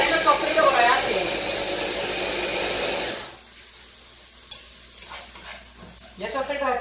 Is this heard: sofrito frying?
yes